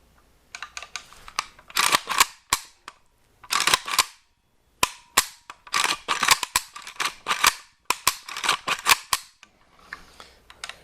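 An aftermarket replacement trigger in an AK-74 SGL31 rifle is dry-fired again and again, producing sharp, close mechanical clicks in quick irregular bursts with short pauses between groups.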